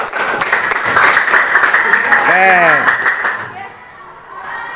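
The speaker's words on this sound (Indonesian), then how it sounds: "beri tepuk tangan untuk kelompok 9" Seventh-grade classmates clap for a student group after a waste-processing class activity, a lively burst of applause that fades out, with a voice speaking briefly over it.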